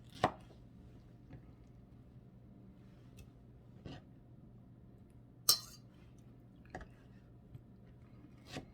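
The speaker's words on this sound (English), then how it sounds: "I'm going to cut it again into squares" A knife cuts pie dough into squares for fried peach pies, giving a few sparse, soft thuds and clicks against a board, spaced irregularly over quiet kitchen background.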